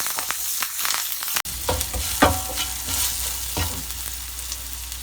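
Curry leaves, coriander and a piece of onion hit hot oil in a tempering for pumpkin raita, a steady close sizzle with a sharp clack of a spoon and stirring scrapes, no voices.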